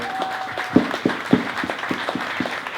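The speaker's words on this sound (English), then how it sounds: "So another round of applause for you guys." A small group at a town hall event gives a short round of applause, with a few louder claps standing out from steady, scattered clapping.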